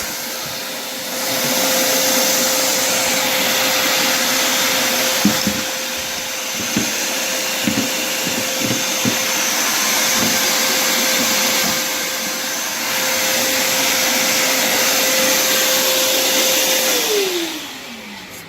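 A power grinder works an aluminium gas cap for an Alumacobra Aston Le-Mans car in a garage, a loud continuous whine with scattered rattling contact and a falling tone as the tool spins down at the end.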